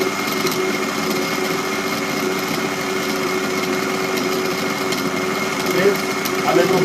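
An OS 91HZ nitro model engine, fitted in a Vibe 50 helicopter converted to 90 size, runs steadily after starting with a continuous high, buzzing whine that holds even and loud throughout.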